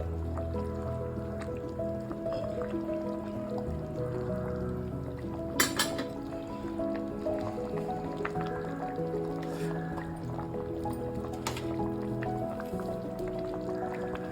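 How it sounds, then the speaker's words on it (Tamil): Fish curry in a pan is stirred gently, producing soft wet squishes and drips over a steady simmering bubble, close and moderately loud with no clear talk. "மீனை லைட்டாக அப்படி கிண்டி விடுங்க"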